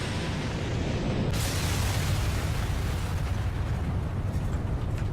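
An aircraft crashing and exploding in the Section 8 video game, heard as a sudden loud blast followed by a long, dense roar of rumbling fire and debris that holds steady to the end.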